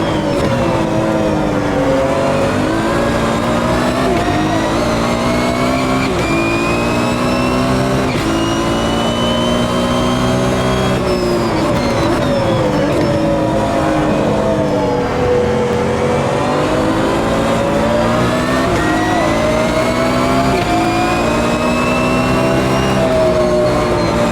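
A GT1 race car engine in the Automobilista 2 racing game, revving hard and continuously with rising and falling pitch through gear changes while chasing a McLaren, loud and close throughout.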